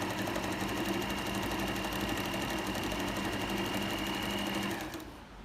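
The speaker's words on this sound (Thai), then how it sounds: "ที่เราเย็บไปเมื่อกี้นะคะ เย็บตรง ปรับทีนะคะ นี่ปรับห่างนะคะ" An Elna zigzag sewing machine stitching a straight seam runs as a steady, even mechanical whir with a fast stitch rhythm, loud and close, stopping just before the end.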